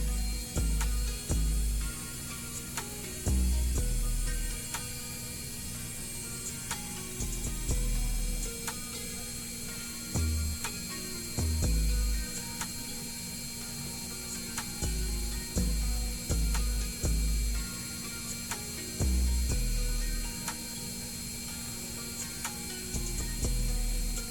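Sewing machine stitching the shoulder seams of a shirt dress, a steady mechanical whir broken by short bursts and pauses, close and fairly loud with no talking.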